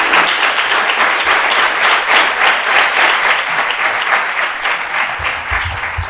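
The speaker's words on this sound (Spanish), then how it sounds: "Un aplauso." An audience at a data science meetup applauds, loud and sustained even clapping that holds for several seconds and ends with a little stage noise.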